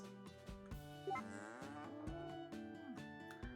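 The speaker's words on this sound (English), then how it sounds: "Time to milk my cows." Cows mooing in the farming video game Story of Seasons: A Wonderful Life, a low drawn-out moo over cheerful background game music and soft interface clicks.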